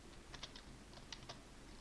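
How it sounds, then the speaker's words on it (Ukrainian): Computer keyboard typing and mouse clicking, a few quiet scattered clusters of light clicks and key taps in two short bursts, faint and close, with no talking. "Я просто по клавіатурі по мишці де-небудь тикаю і все."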